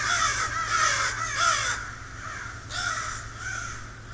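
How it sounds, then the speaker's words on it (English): Many crows cawing from a single tree, loud overlapping harsh caws in irregular bursts close by, with a low steady hum beneath and no talking. "How many crows live in that fucking tree?"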